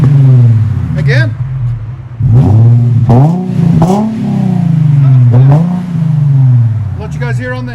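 A 2006 Infiniti G35 with dual exhaust and a muffler delete revs repeatedly, deep rising and falling engine roars close by, loud and continuous across several throttle blips.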